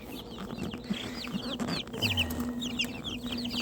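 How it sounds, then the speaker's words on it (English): Rare purebred chickens cluck and chatter in a pen among a farm's many fowl, several birds calling close by in overlapping bursts over a constant hum. "there is all kinds of nothing but purebred, rare, hard to get purebred chicken breeds"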